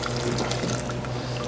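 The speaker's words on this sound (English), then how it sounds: "I'm gonna run some just loose syrup through this just to sterilize everything again" Loose maple syrup pours through the valve of a finishing pot during bottling. It makes a steady, close, gurgling rush of liquid with no pauses.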